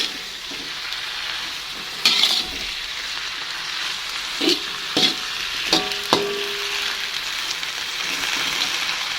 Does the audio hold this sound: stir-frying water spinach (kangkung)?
yes